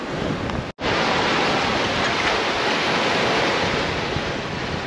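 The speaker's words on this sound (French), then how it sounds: "on a la houle qui nous rattrape parfois" Steady roar of ocean swell with waves of two to three metres, mixed with heavy wind buffeting the microphone, continuous and loud, with a brief dropout near the start.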